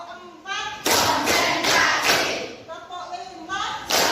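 Students in a classroom clap in unison to a counted rhythm, with dense bursts of clapping between a teacher's spoken counts and some children's voices.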